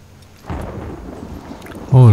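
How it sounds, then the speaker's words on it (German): Thunder rolls in a stormy nighttime landscape in the video game Hunt: Showdown, a loud rumbling swell with rain texture that grows heavier toward the end. "Gewittert."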